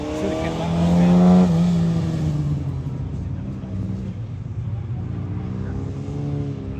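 A 1200cc Hillman Imp racing car engine on a hub dyno revs and whines, pitch climbing then falling, with tyre noise and a voice speaking briefly over it.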